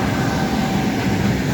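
A 2M62 diesel locomotive hauling repair platforms and wagons rolls through a railway station, a steady loud rumble with a faint high whine, continuous and close, with no voices.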